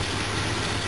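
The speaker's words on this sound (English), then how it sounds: "Got a little bit of a exhaust leak right down in there that I need to fix" A car engine idles with an exhaust leak, a steady, dense rumble with a faint ticking roughness, close and uninterrupted.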